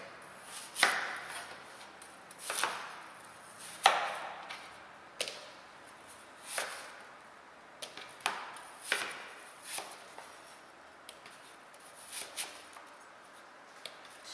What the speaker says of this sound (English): This I'm going to dice up.